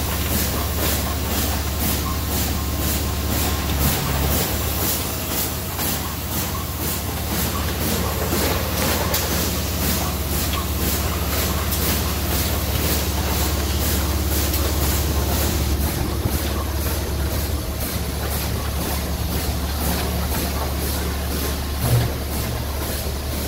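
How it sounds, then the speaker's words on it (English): A bottle blow molding machine runs on the production floor of a purified water plant, a loud, steady mechanical drone with a low hum and constant whir, unbroken for the whole stretch. "Once it's heated, it is then flipped over and then it enters into the blow molding machine."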